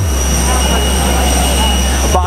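Jet aircraft on the runway at Gatwick Airport at night, a loud steady engine roar and whine filling the whole stretch with no break.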